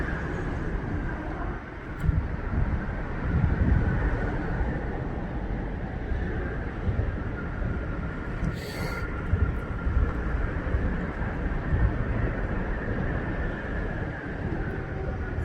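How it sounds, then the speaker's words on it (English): A KCS freight train pulls out, a continuous low rumble and rolling roar holding close and loud throughout, with a brief high squeal partway through. "There's a KCS leaving out right now."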